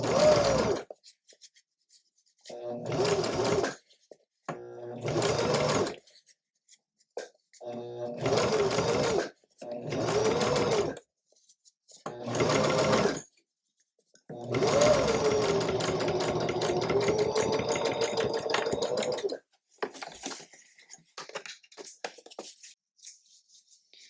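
A sewing machine stitches batik quilt pieces together in repeated bursts of a few seconds each, with short pauses between, then one long continuous run of stitching, fairly close and alone.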